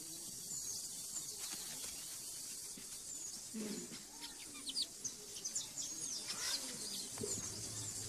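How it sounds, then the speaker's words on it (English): A weaver bird colony calls from a tree beside a village hut, a faint scatter of chirps, tweets and short calls over quiet background with a couple of soft low coos. "There is a weaver bird colony in a tree close to the chief's hut."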